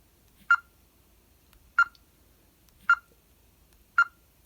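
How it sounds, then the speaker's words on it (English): Touch sounds on a TCL A1 smartphone: four short, bright tonal beeps spaced about a second apart, clear and close over near silence. "this phone does have one annoying thing when you first power it on, and that is touch sounds"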